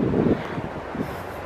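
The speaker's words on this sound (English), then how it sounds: "Sorry about the wind too." Wind buffeting a microphone outdoors beside a highway, a low rumbling blast that gusts hardest at the start and then settles into a softer whooshing roar, loud and close, with no other sounds.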